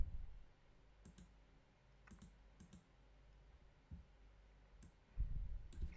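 A handful of quiet, sharp mouse clicks spaced irregularly over faint room hiss, working in an Excel spreadsheet.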